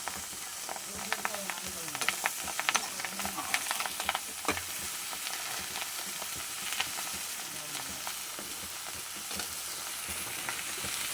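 Snake gourd pieces fry in hot, foamy oil for a Bengali-style dish with fish roe, giving a continuous crackling sizzle broken by sharp spatters and stirring scrapes, with occasional faint voices in the background.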